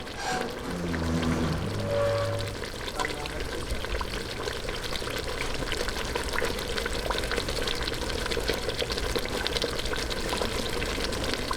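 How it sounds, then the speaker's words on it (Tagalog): Water pours steadily into a pot of brine-soaked milkfish (bangus) being prepared as sardines in tomato sauce, a continuous splashing trickle that follows a few brief clunks at the start. "lalagyan na po natin siya ng water"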